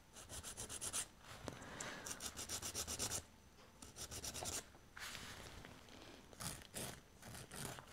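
An acrylic resin fingernail is rasped with a nail file in rapid back-and-forth strokes, close and crisp, coming in several bursts with short pauses between them.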